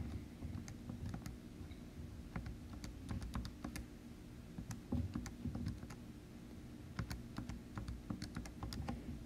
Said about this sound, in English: you're going to type the entire thing into the calculator all at one time